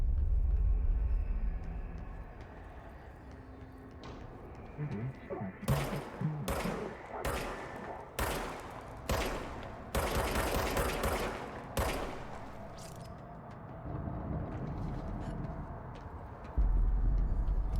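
Rapid gunfire from the service weapon in the game Control, a run of sharp shots clustered in bursts mid-clip, loud against a low ambient rumble.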